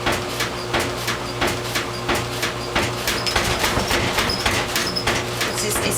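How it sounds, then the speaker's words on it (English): A GE front-load washer standing on a pedestal rocks and whines, with rhythmic thumps repeating roughly every second over a steady mechanical hum. "Now it's starting to rock, do its little whining sound, and then we're going to knock again."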